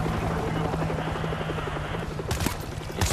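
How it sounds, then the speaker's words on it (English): Helicopter in the video game World War Z: Aftermath, a steady rhythmic rotor thump with engine drone, fairly close and continuous, with bursts of gunfire-like noise toward the end. "Is that a helicopter?"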